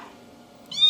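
A cat gives a single short, high meow near the end, close and fairly loud, after a faint murmuring background.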